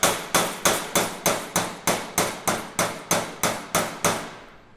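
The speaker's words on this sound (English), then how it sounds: "pound a finish in there so it looks like a flower petal" A metal flower petal is pounded on a small anvil with about a dozen sharp, evenly spaced hammer blows, each ringing briefly before the next, loud and close with no talk.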